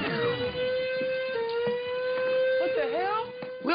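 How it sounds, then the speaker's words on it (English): Alarm sounding aboard a cruise ship: a steady, loud electronic tone holding one pitch with slight dips, heard alone without talk, while other sweeping tones rise and fall near the end. "and this alarm started going off"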